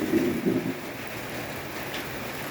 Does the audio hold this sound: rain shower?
yes